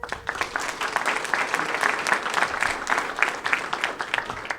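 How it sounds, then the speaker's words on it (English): An audience at a county family court grand opening in New Rochelle gives a round of applause, a steady wash of many hands clapping at moderate distance. "stand up for a round of applause"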